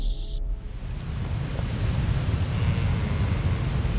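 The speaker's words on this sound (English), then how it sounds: "I really love, like, the sounds of waves and the sounds of, like, a waterfall." Ocean waves from the video game Superbrothers: Sword & Sworcery EP wash in as a soft, steady roar of surf that carries on evenly without any voices.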